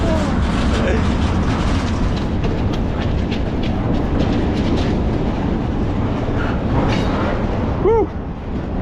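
Train rolling along the rails on the last stretch to Vancouver, a steady close rumble with clickety-clack of wheels, and a faint tonal squeal near the end.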